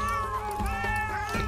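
A cat in the video game Kena: Bridge of Spirits lets out a quick, wavering meow, close and clear over a steady low musical drone.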